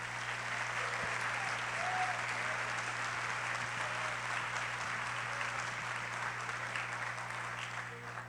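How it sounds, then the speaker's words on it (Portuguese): A church congregation applauds steadily through a worship service, a sustained wash of clapping from many hands over a low hum, with no talk. "Pode aplaudir o Senhor."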